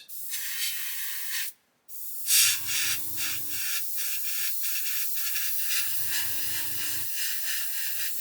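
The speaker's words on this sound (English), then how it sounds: "That's spraying absolutely beautifully" Bursts of spray paint hiss steadily onto the inside of a 1/32 scale Fokker E.IV model, with a brief pause between sprays and a low mechanical hum underneath.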